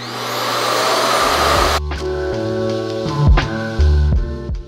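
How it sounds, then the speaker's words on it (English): A loud, steady whooshing hiss of a Revair reverse blow dryer, which sucks air rather than blowing it, used on 4b/4c hair, abruptly shuts off, followed by clunks and a low whirring motor. "it is basically a reverse blow dryer"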